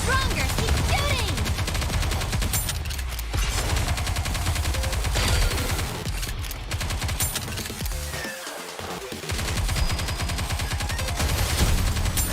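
Continuous rapid gunfire from the mobile shooter Nikke rattles on almost without pause, loud and dense, layered over game music and effects, with one brief lull near the end.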